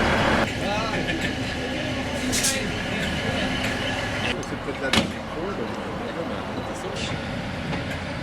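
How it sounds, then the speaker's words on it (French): A train departs Crianlarich railway station in Scotland with a steady rumble of moving wagons, a clunk or slam midway and a long tonal whine, all fairly close. "Nous assistons aux manœuvres et au départ du train pour Oban."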